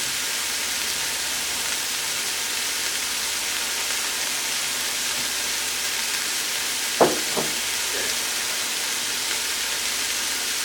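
Steady broadband sizzle of vegetables frying in a vegan beef and broccoli stir fry, a continuous hiss with a couple of brief clinks around the middle.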